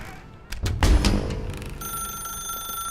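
An office telephone rings in the video game The Stanley Parable, a bright electronic trill following a few sharp clicks and thumps, sustained and fairly close.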